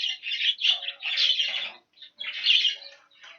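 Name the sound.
hens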